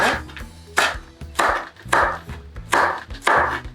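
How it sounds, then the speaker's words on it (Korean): A ripe red chilli is sliced thinly and diagonally with a knife on a cutting board, about six crisp, evenly spaced cuts, close and clear with no talking. "이거를 반으로 가르셔서 좀 얄쌍하게 옆으로 이렇게 썰어주세요."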